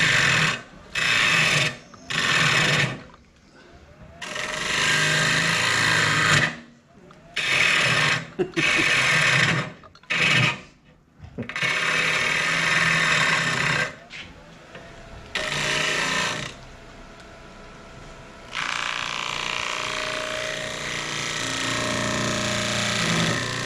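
An edge tool cuts away wood to shape a rim, with bursts of loud buzzing, rasping cutting separated by short pauses, then a longer continuous cutting stretch toward the end.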